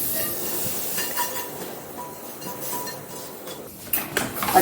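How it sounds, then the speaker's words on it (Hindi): A colostrum milk sweet mixture is stirred in a hot pan. Soft scraping and light clinks of utensils sit over a faint hiss, and sharper clatter comes near the end. "अब इन दोनों चीजों को बोली में मिक्स कर देंगे।"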